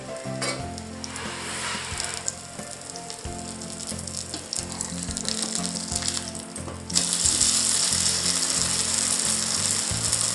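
Semolina appam batter sizzles and fries steadily in a pan, a dense continuous crackle that grows brighter and louder partway through, with no speech.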